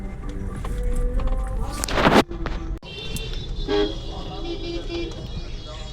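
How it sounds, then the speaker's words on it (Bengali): A car horn honks on a neighbourhood street during Durga Puja festivities, sounding in a few sustained toots after a sharp burst, amid traffic noise and people talking nearby. "হর্ন দাও।"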